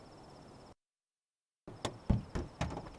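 Crickets chirping in the Life is Strange 2 video game, a faint steady insect drone that drops into total silence partway through, then returns with several sharp clicks and bursts.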